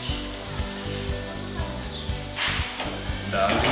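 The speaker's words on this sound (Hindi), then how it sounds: "आप इसको फ्राई करना है, फ्राई करना है तकरीबन 5 से 6 मिनट।" Batter-coated french fries fry in hot oil, giving a continuous crackling sizzle with a few soft knocks, and the sizzle briefly swells louder near the end.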